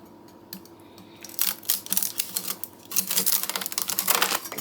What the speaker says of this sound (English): All I'm doing is running my knife down the center here